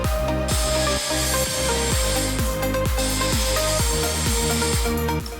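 A power saw cuts wood for monkey-bar obstacle cradles, a loud, steady, continuous whine with a rhythmic pulsing drone, close up and with no talking.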